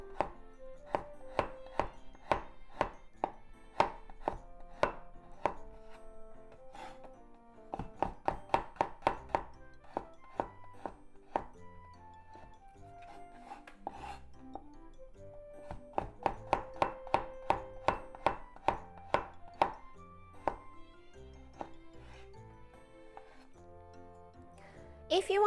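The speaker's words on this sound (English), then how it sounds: "After I peel them, I keep them frozen. So this one is still frozen, but never mind. Let's just make thin slices." Knife slicing a frozen peeled garlic clove into thin slices on a cutting board, quick bursts of sharp, rhythmic taps separated by pauses, close and crisp, with a person speaking quietly in between.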